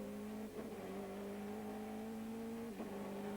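Onboard engine of the race-leading number 1 car at Sears Point in the 2001 American Le Mans Series, a steady high-pitched drone broken by two brief dips as the gears shift.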